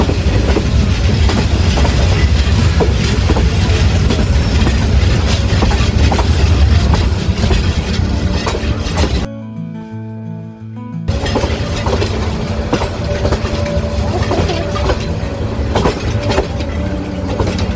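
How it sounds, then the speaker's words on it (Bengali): Jayantika Express passenger train rolling into platform one at Sylhet divisional railway station after a long curve, loud continuous wheel rumble and clatter close by, briefly cut off midway, then resuming steadily with faint squeal. "সুবিশাল কার্ভ নিয়ে জয়ন্তিকা এক্সপ্রেস এক ঘন্টা বিলম্বে সিলেট বিভাগীয় রেল স্টেশনের এক নম্বর প্ল্যাটফর্মে প্রবেশ করছে"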